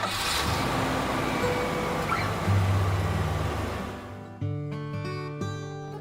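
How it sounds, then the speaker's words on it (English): A pickup truck rolls past with a broad engine and road-noise roar that stays fairly level, then gives way to a bright tonal jingle in the last seconds. "pickup truck"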